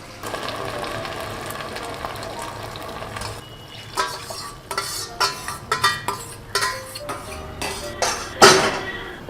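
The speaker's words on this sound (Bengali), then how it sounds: "হ্যাঁ, ভালো করে নাড়িয়ে দেবে, কিন্তু নিচে কিন্তু কর্নফ্লাওয়ার থিতিয়ে থাকে।" A spoon stirs cornflour gravy in a pan, scraping and clinking against the metal in irregular bursts that grow busier and louder in the second half. Soft liquid sloshing runs underneath.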